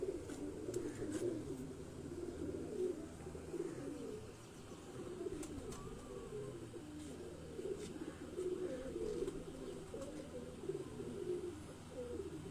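Dub pigeons, a dark, uniquely coloured old breed line kept by a pigeon fancier, coo continuously in a loft, with dense overlapping low calls and faint chirps throughout.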